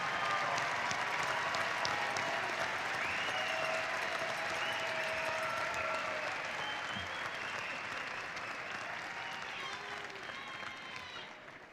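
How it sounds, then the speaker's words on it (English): Sustained applause from a large commencement audience for master's and special degree graduates at a university fall ceremony, a steady dense wash of clapping that holds for the whole stretch and tapers only slightly at the end. "please give a round of applause to the master's and special degree graduates"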